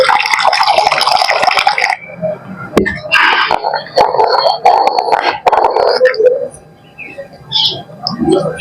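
Hot water poured over a ground mixture to wash it, making splashing and gurgling liquid noise with some drips, fairly close and loud, with rough voice-like sounds mixed in.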